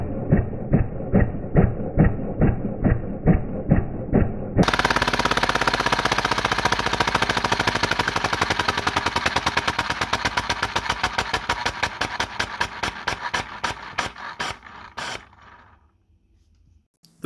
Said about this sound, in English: you can see the internals of the engine while it's running